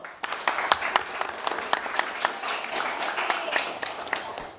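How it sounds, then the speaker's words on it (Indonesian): Students in a classroom clap for a classmate, a small group's distinct, fairly quick individual claps, some louder than others, close and clearly separated. "Kita tepuk tangan untuk temannya dulu."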